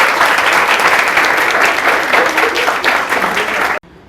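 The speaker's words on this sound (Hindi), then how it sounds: "तो एक बार जोरदार तालियां आप सबके लिए कि आपने इस तरह से सपोर्ट किया" Loud, dense applause from the audience at a prize distribution ceremony, many hands clapping steadily and close before stopping abruptly near the end.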